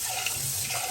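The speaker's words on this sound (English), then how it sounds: "fill that full of water" Tap water runs steadily into a cooking pot at a kitchen sink, a continuous close hiss and splash over less than a second with no talk.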